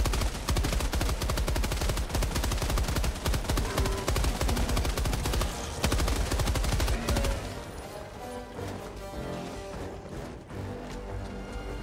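Automated sentry gun in the video game Helldivers 2 blasting continuous rapid-fire bursts, loud and dense for several seconds before easing into slightly sparser, quieter shots mixed with game effects.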